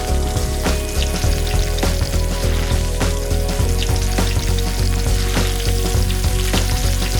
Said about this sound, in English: And finally, we fry the egg rolls.